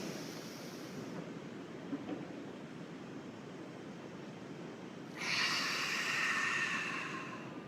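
Slow, deep breathing: a soft, steady airy hiss through the first seconds, then a louder, brighter breath swelling in near the end, alone with no talk.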